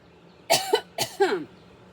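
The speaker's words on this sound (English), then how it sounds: "I've been trying to cough" Two short, breathy coughs close to the microphone, each a quick double burst, followed by quiet.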